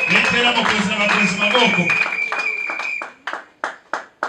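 A church congregation claps and cheers loudly for a couple of seconds with voices mixed in. The crowd then fades to a few separate, distinct claps.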